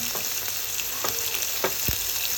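Garlic, ginger and cumin paste frying in hot oil, a steady sizzle broken by occasional stirring scrapes and sputters, close and moderately loud with no voices.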